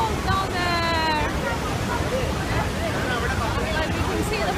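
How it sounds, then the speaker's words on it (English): Athirapally waterfalls send a constant broad roar of rushing water from some distance, with a crowd's babble and voices speaking over it. "Can you hear the sound of waterfalls?"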